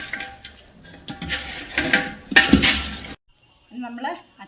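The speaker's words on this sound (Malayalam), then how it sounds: "ഇതിങ്ങനെ നന്നായിട്ട് ഇളക്കി കൊടുക്കാം." Pickle mixture being stirred in a pot, with scraping and clinking of a spoon against the vessel in irregular bursts, a louder clatter midway, then a brief pause before a voice speaks.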